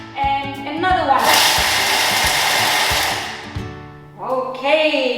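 A countertop blender grinds fruits and nuts into a coarse mix in short bursts: a loud, rising whir for about two seconds, then spinning down, with bits rattling against the jar and a little talk around the bursts.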